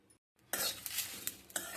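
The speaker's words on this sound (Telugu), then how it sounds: "ఈ వస్తువులన్నీ ఇప్పుడు కొంచెం లైట్గా ఒక 2 నిమిషాలు వేయించుకోవాలి." Bay leaf, cardamom and nutmeg dry roast in a pan. A brief quiet moment gives way to a close, dry rustling scrape as the whole spices are stirred and tossed, with a few sharper clinks of the utensil, and no speech.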